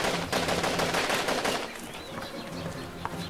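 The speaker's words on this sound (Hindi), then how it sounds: "रात 2:30 बजे के करीब गोलियां चलनी शुरू हो गई" Gunfire rattles out at night during a security forces' encounter with militants in Shopian, Kashmir, with rapid crackling bursts at first, then thinning to scattered distant reports.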